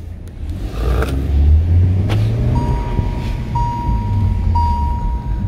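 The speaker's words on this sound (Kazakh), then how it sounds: "Енді біз бұл көліктің объемы 1/4 болса да, көліктің тартысын көрейік." A 2019 Kia Stonic with a 1-litre turbo petrol engine pulls away and accelerates, its engine a steady, fairly loud rumble with rising pitch and faint whining tones, heard without any talk.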